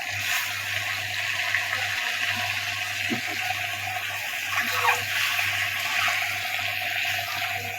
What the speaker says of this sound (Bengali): ডিমগুলো ভালোভাবে ভেজে নিই তো এই যে আমার ডিমগুলো লাল লাল করে ভেজে নিচ্ছি